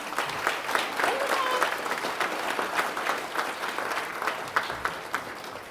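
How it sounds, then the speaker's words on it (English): An audience at a nonprofit awards event applauds the judges, a full burst of clapping with scattered louder claps, steady across the room and fading slightly toward the end. "Let's give them a round of applause."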